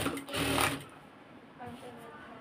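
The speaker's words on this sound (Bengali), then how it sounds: "এখন সেলাই শুরু করব।" A sewing machine stitches fabric in a short burst of rapid mechanical whirring, then falls quieter; a voice talks over the second half.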